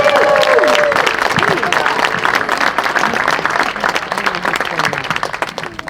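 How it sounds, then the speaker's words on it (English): An audience at a school Hall of Fame induction ceremony applauds, a dense, loud wash of clapping that holds steady and then slowly thins out, with some voices mixed in. "stand up and give yourself a round of applause"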